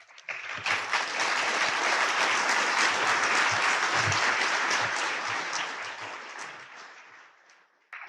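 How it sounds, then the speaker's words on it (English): An audience applauds speakers after a debate on socialism versus capitalism: clapping swells in quickly, stays loud and full for several seconds, then tapers away toward the end. "Let's give one more big round of applause for our speakers."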